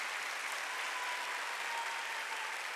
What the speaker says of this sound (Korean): 박수 치려면 치고 말려면.